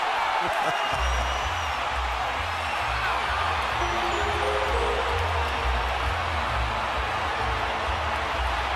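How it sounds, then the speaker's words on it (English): A boxing arena crowd in Houston roars steadily at a Canelo fight, a dense wash of cheering and shouting that holds at a constant level throughout, with commentary voices woven in. "Crowd is rocking and roaring in Houston."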